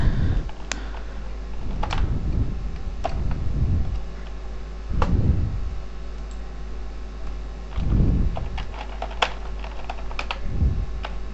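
Keys on a computer keyboard are tapped to enter a folder name, sparse close clicks in small bursts over a low steady hum, with no talk.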